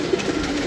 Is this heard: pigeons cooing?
yes